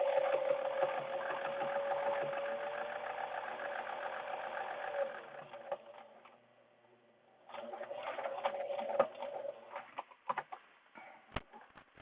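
A home sewing machine stitches a reusable fabric face mask with a HEPA filter pocket, running in a steady hum for about five seconds, pausing briefly, then resuming in shorter bursts with clicks and stops.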